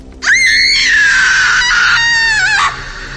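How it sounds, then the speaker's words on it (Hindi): A woman lets out a single loud, sustained scream of pain, burned with a torch on the back in a Hindi horror audio drama, lasting over two seconds with a wavering pitch before cutting off. "दर्द के मारे बंजारन चीख पड़ी"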